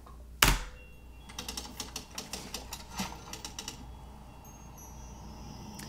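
Typewriter keys clack in a rapid, uneven run of sharp strikes after a single loud thunk, the typing heard alone and close, with a faint tone lingering late.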